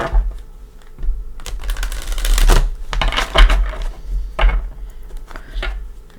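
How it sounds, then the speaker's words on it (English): Tarot cards from a Tarot of Dreams deck being shuffled by hand, a run of quick papery riffles and taps that swell louder through the middle, close and with no talking. "Everything's pre-shuffled, but I do like to give it a couple shuffles with you here."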